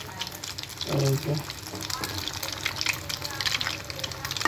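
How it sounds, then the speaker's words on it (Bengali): Mughlai paratha sizzles in hot oil in a pan, a steady bright crackle and hiss running close throughout, while someone talks over it. "এখন এই সাইডটা এরকম করে লাল লাল করে ভেজে নিব"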